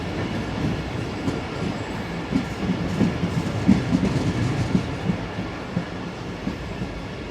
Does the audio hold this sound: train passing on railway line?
yes